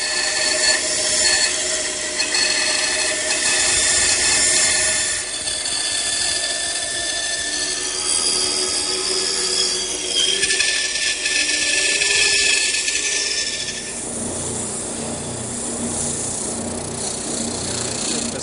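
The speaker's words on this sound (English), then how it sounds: "I just trace that outline, and then I head over to the bandsaw" A workshop bandsaw cuts a wooden blank along a traced outline in a steady, loud whining buzz, its pitch shifting as the feed changes before the cut eases toward the end.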